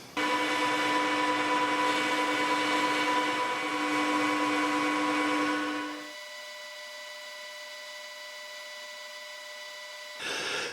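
A metal lathe makes a facing cut across a flywheel machined from a gym weight, giving a loud steady tonal whine with a cutting hiss. Midway the cutting noise drops away and the quieter motor hum runs on alone before a brief louder burst.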